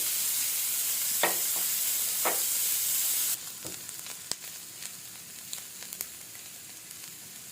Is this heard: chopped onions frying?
yes